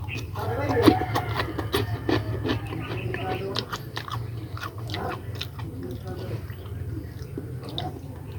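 Crunchy toasted bread chewed close to the mic during a mukbang, with repeated bites and crackly crunches over a steady low hum and occasional talk.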